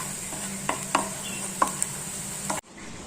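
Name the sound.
stirring onions and turmeric sautéing in a pan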